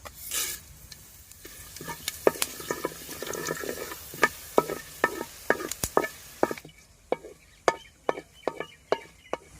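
Fenugreek and coriander seeds stirred in oil in a pan, a soft sizzle under repeated spoon scrapes and sharp clinks that grow sparser and more distinct toward the end.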